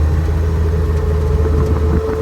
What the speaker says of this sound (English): They're getting all the wind sound.